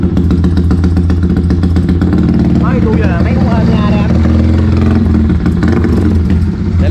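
A Yamaha Exciter motorcycle with a 68+ engine and touring build runs loud and close with a steady rumbling idle, while someone talks over it.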